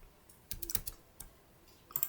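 Computer keyboard keys pressed in a quick cluster for a Ctrl+C copy shortcut, a handful of crisp clicks around the middle and another short burst near the end, close and fairly quiet with no talking.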